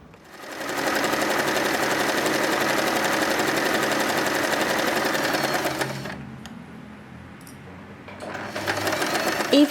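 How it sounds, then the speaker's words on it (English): A sewing machine stitches around the edge of a fabric turban hat, running in a fast, steady mechanical whir for several seconds, stopping briefly, then starting up again, loud and close. "Next, I will sew around the turban hat."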